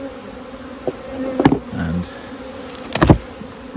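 Honey bees buzz around a nuc box set among vegetation outdoors, a continuous insect drone with a few louder close fly-bys and some soft knocks.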